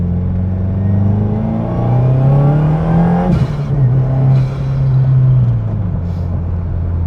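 A 2022+ Subaru WRX with a REMARK cat-back exhaust revving from a steady drone up through a rising pull, then settling and blipping again; a loud, close, throaty exhaust note heard alone.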